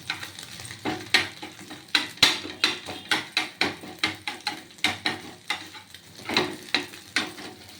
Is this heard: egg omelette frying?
yes